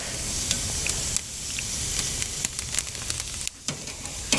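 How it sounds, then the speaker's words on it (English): Seasoned chicken breasts sizzle on a hot cast iron grill grate over lump charcoal, a steady close hiss with scattered crackles and pops, and no talking. "And the sizzle's good as well."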